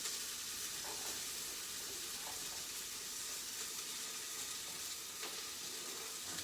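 Onions and ginger fry in hot oil over medium heat, giving a steady, close sizzle with faint bubbling crackle throughout and no voices.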